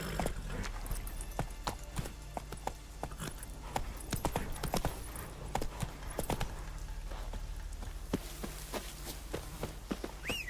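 Hoofbeats of Roach, the horse in The Witcher 3, thud in a steady rhythm at moderate level over a low ambient game bed, with faint insect-like chirps and a brief whinny-like sound near the end.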